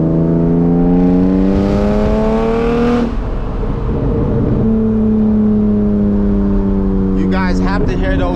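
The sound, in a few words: BMW E36 328i manual exhaust pops while driving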